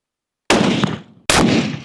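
Two sharp, loud long-range hunting rifle shots about a second apart, each a sudden crack with a short decaying echo, close to the shooter, with no talk.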